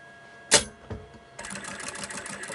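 A sewing machine stitches around a star-shaped fabric appliqué: a sharp click and a brief thump first, then a steady close mechanical whirr of rapid stitching that runs to the end, with no talking.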